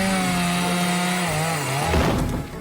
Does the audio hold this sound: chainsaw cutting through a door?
yes